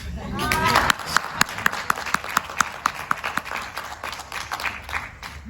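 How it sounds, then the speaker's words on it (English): An audience at a book launch claps in a scattered, uneven rhythm, individual claps standing out as sharp close hits, with a brief voice at the start. "This is the moment where you clap, Bazalwane."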